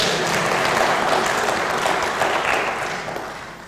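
An audience at a public lecture applauds, a dense wash of clapping from many hands that stays full for about three seconds and then begins to fade.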